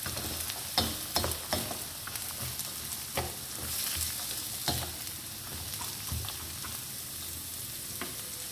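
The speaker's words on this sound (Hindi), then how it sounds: "साथ ही ऐड करेंगे ये जो बारीक कटी हुई कैरेट, तेज़ी से चम्मच चलाएंगे।" Finely chopped carrots fry in a pan under quick spoon stirring, a continuous sizzling hiss broken by repeated scraping knocks of the spoon against the pan.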